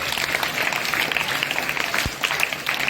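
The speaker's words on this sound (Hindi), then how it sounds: "ताली बजाओ" An audience at a Hindi Diwas school event claps in a continuous, lively burst of many hands, loud and fairly close, with a single low thump near the end.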